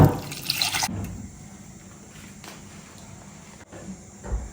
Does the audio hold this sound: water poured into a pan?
yes